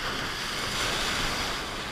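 Big ocean waves break at Montauk beach during night surf casting, giving a continuous, full roar of surf with some wind. The wash stays steady and fairly close throughout, with no voices.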